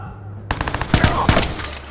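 Enemy gunfire in Watch Dogs comes in several rapid, clattering bursts of automatic shots, loud and fairly close, against a quiet game backdrop.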